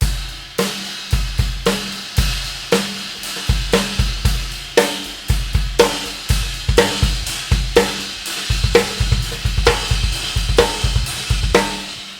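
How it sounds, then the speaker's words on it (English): A drum kit plays a steady rock beat with kick and snare under a washy ride cymbal, loud and continuous. "If I did just a normal rock beat"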